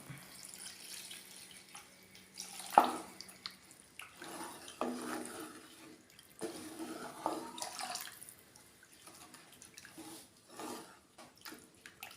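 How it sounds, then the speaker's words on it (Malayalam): Water splashes and pours in short bursts into a pot of vala (ribbonfish) curry, with occasional clinks of a utensil against metal, fairly quiet and close. "ഇതിലേക്ക് മീൻ വെന്ത് കിട്ടുന്നതിന് ആവശ്യമുള്ള വെള്ളം ഒഴിക്കുകയാണ്."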